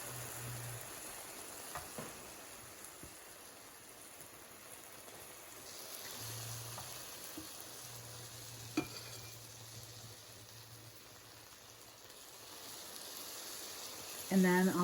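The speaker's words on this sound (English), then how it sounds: "Can you hear that sizzle?" Sugar syrup ladled over Lebanese baklawa row by row gives a soft, faint crackling sizzle with light clinks and a low hum, steady but quiet throughout.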